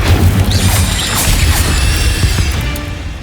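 A fiery blast from the Incendio spell in Hogwarts Legacy, a loud burst of flame with a booming, crashing impact that roars on steadily for a few seconds.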